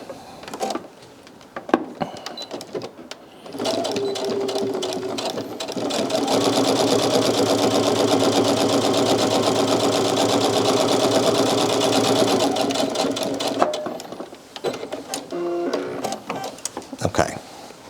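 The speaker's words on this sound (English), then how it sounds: "I'm just going to sew a seam right across it." An electric sewing machine runs a straight seam across a fabric Christmas stocking, starting with a few short bursts and then settling into a long, steady, rapid needle chatter that stops with some clicks of handling the fabric.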